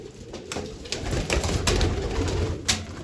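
Pigeons coo in low, soft, repeated murmurs, close by, with a few sharp clicks and flutters mixed in.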